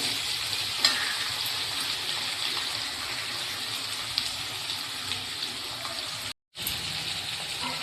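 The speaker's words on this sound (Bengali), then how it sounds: "এবার এগুলো ভালো করে ভাজা হয়ে গেছে। আলু, গাজর, এর মধ্যে লবণ আর হলুদও দিয়ে দিয়েছি আমি।" Potatoes and carrots fry in a pan with salt and turmeric, making a continuous close hiss and sizzle with a few light stirring knocks and one brief break near the end, with no voices.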